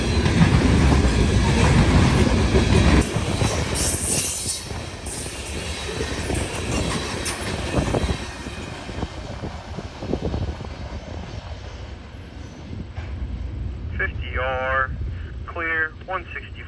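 A grain unit train hauled by two locomotives rolls past, a loud broad rumble of wheels and cars that gradually eases off, with a voice talking near the end.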